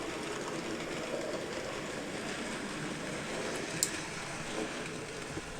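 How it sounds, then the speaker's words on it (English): An N gauge model train runs steadily along its track, giving a continuous low rumbling whir with faint clicks, close by and without speech. "Have that train going round."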